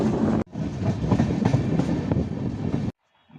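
A train rolls past at a railway station market, loud and close with rumbling wheels and clickety-clack, then cuts off abruptly near the end.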